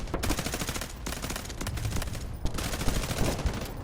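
M4A1 rifle fire in the shooter Delta Force crackles in rapid, dense bursts, loud and close, with brief gaps between volleys and no talking.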